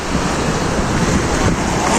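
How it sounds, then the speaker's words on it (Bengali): Arabian Sea waves roar continuously against the shore, a dense, broad wash of surf close by with wind buffeting the microphone and no voices. "সমুদ্রের গর্জন দেখছেন?"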